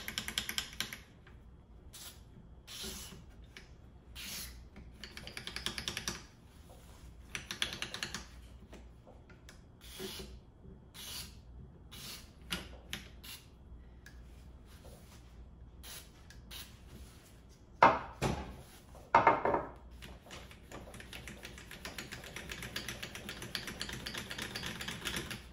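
Sliding faders on a Roland System 100 synthesizer module scrape and click in short, irregular bursts, faint and close, alone without talk.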